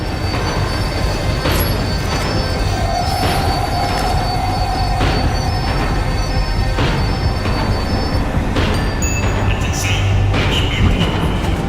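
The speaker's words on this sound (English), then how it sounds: "The tram was slowing down, and I'd only just gotten on board." A tram slows down in the game Max Payne 3 with a continuous loud rail rumble, high wheel squeals and periodic clanks as the carriage rolls along.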